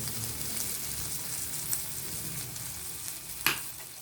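Ingredients for ivy gourd chutney, with asafoetida going in, sauté quietly in a hot pan as a faint, steady sizzle with a couple of soft clicks, no one speaking.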